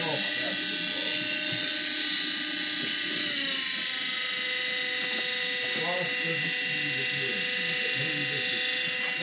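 A car air conditioner blower motor runs with a constant whirring hum and high tonal whine, steady throughout, while people talk faintly underneath.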